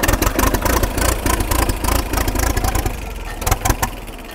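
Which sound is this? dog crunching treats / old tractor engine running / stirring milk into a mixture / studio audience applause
old tractor engine running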